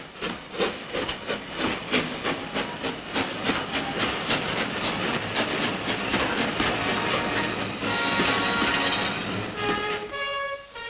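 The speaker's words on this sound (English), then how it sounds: "Still steam-hauled by magnificent engines are most of the crack trains of the western region." A British Railways Western Region express hauled by a steam locomotive thunders past, its rapid rhythmic chuffing and hiss loud and close, wheels clattering on the rails, ending with a sharp steam whistle blast.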